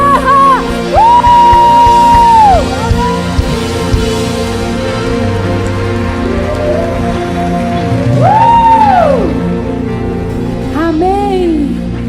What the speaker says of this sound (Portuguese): dá um grito de guerra